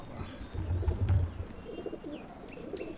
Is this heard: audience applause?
no